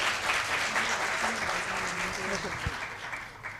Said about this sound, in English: Let's welcome Lakshmi Vijaykumar ma'am with a big round of applause